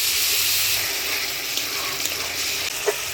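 Water rinsed from a spice bowl is poured into a pan of cooking Bengali-style rita fish curry with tomatoes, making a loud, continuous gushing hiss over the simmering pan for several seconds.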